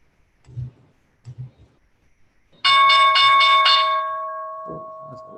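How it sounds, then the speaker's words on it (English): A loud bell rings suddenly after a few faint knocks, its bright metallic tone sustaining and slowly decaying. "Oh, that's a loud bell."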